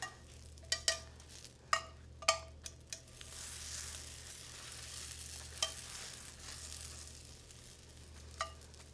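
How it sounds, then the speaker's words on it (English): Croutons toast in a very hot pan with a steady soft sizzle, while sharp clicks and scrapes of stirring break in at irregular moments, fairly close and moderately quiet. "And I'm going to put these croutons in there. And we're just going to toast them a little bit."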